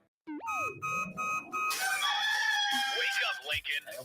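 A rooster crows loud and close, a rising then falling call that gives way to a sustained, ringing tone with a busy burst of sound after it.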